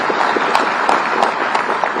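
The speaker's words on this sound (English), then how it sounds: "So give him a very big round of applause." A crowd claps steadily at a university convocation, a dense patter of applause with sharper individual claps standing out.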